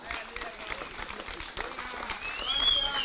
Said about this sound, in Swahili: NEB, pigieni makofi.